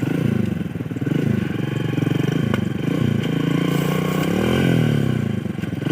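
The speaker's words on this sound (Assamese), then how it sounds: "এইটো চাক আমাৰ বাইক" A motorcycle engine runs close by with a steady, throbbing putter, its pitch shifting slightly as it revs a little.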